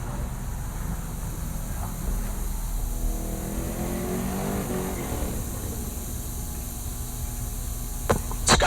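A GT Mustang drag car launching down the strip at Heartland Park Topeka, a steady mid-pitched engine roar held at a distance with a slowly rising pitch and a sharper burst near the end.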